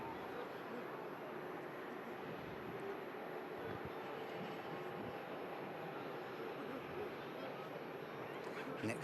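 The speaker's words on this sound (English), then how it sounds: "Next Jet2 coming in from Salerno on the Amalfi Coast." A Jet2 airliner arriving from Salerno at Manchester Airport makes a faint, distant, steady engine rumble that drones on without a break.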